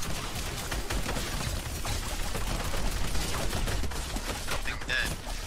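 Rapid bursts of gunfire from the Fortnite Battle Royale Horde Rush mode on Xbox One crackle continuously as dense, overlapping shots fill the stretch, with a voice briefly in the mix.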